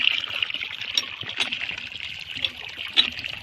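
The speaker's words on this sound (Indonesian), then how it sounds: "Ini sudah airnya gemericik ini." Water trickles steadily from a groundwater well in southern Lamongan, a continuous close splashing dribble with a few brief louder spurts, heard alone.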